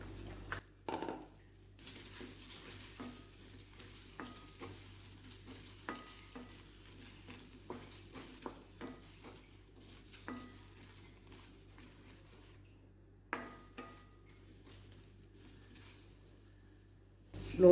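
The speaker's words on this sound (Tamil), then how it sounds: "முதல்ல ஒரு பேனில் வெண்டைக்காயை வெறுமனே போட்டு வதக்கிக்கலாம்." Okra being dry-sautéed in a pan for moor kuzhambu, giving a quiet, steady sizzle broken by irregular scrapes and clicks of a spatula stirring against the pan, with a few louder knocks.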